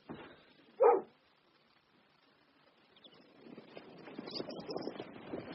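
A dog gives one short bark early on, fairly close and alone, followed by quiet and then a rising scuffle of wind-like outdoor noise.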